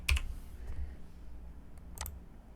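Sparse key clicks on a computer keyboard while typing text into Canva, a few soft quick taps near the start and another small cluster later over a quiet room hum.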